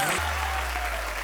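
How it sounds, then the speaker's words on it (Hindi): A short burst of loud, dense audience clapping for comedy show performers, with a low steady tone running underneath. "इनके लिए जोरदार तालियां"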